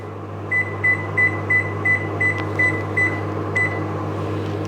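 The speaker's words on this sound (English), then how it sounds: "I'll set my microwave" A home microwave oven being set to seven minutes gives about nine short, even electronic beeps at a steady pace, close and clear over a low steady hum, with no talking.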